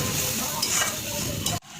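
Spice paste stirred into frying onions in a pan for a Bengali crab curry, a loud close sizzle with stirring scrapes that ends suddenly, without any talking.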